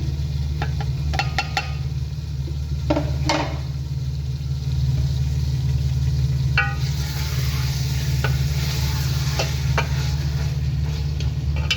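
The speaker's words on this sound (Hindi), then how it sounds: "अच्छी तरह हिला लेंगे" Beef karela curry being stirred in a frying pan, scattered scraping clicks of the spoon over a steady low sizzle and hum, moderately loud and close, no voices.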